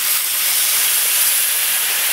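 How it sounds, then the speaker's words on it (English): Water hitting a hot pan for Mexican soup gives a loud, steady hiss of sizzling steam that holds unbroken for about two seconds, close to the microphone. "you should hear that sizzle right there"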